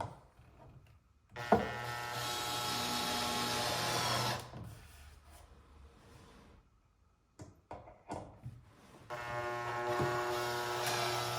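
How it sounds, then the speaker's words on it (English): A power drill drives screws into a cedar Adirondack chair kit being assembled, with two sustained close whirring bursts separated by quieter clunks and handling knocks. "Just hold it tight as you drive the screws in."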